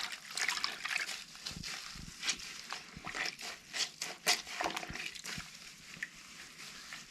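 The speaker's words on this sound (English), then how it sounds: "You can kind of squish it around and it'll start falling into the water" Soft squishing and sloshing of a dirt bike's foam air filter being squeezed in water, with trickles and small splashes, close and quiet.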